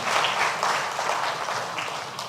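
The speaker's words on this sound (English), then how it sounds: "can we give the panelists and the moderator another round of applause?" Audience at a road safety advocacy memorial anniversary event in Nigeria applauds the panelists and moderator, a dense, steady round of clapping filling the room from start to finish.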